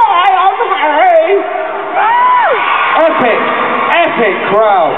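A big arena crowd at a concert in Manchester roars continuously, with loud cheering, shouting and rising whoops layered over a steady wall of noise.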